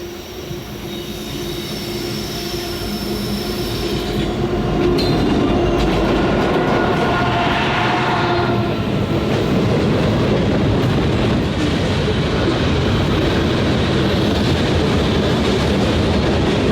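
A loud Norfolk Southern manifest freight train rumbles past close by in Birmingham, Alabama, with a steady heavy roar, rattling wheels and occasional squealing metal throughout.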